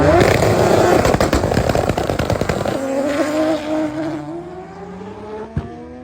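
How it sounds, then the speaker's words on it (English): Honda and Toyota Supra drag cars launch side by side at Cordova Dragway, a loud, raspy engine roar at first that thins into rising, receding engine tones as the cars pull away toward the top end. "the Honda got off the starting line first"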